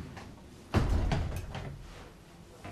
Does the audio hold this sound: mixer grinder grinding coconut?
no